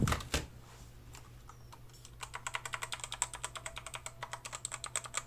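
Redragon Kumara mechanical keyboard with red switches being typed on, a few scattered clacks after an initial thump, then a fast steady run of sharp, dry keystrokes close to the mic, with no talking.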